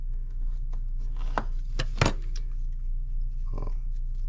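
A small, very thin-bladed knife cuts with a few sharp, brief strokes, the loudest near the middle, then a softer cut a little later, close up over a low steady hum.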